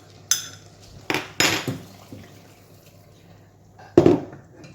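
Pumpkin soup mixture is stirred in a pan, giving a few separate clanks and scrapes of a utensil against the pan, spaced out and close, with quiet gaps between.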